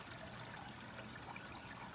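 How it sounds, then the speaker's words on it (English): Water from a duck pond pump flows steadily through a pipe, making a continuous close rush with a faint trickle and no break. "So that bigger pump in the pond pipes water up into a main pipe here."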